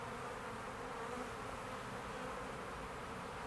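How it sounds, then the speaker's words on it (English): A dense, constant buzz of many honey bees up close at an open hive, a low steady drone with no pauses and no voices. "I'm going to blow on the bees a little bit."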